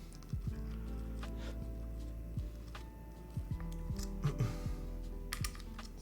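A Keycult No. 2/65 mechanical keyboard is being closed up, giving a series of close, irregular plastic and metal clicks and taps as the case is fitted together over a low steady hum.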